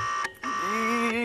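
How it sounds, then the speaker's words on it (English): A failing computer hard drive emits a close, buzzing mechanical whine with layered tones, cutting out briefly before resuming steadily. "If you hear sounds like this coming from your hard drive"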